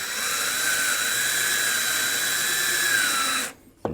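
A power drill bores into wood, whirring at a steady high pitch for several seconds, then winds down and stops, followed by a brief click.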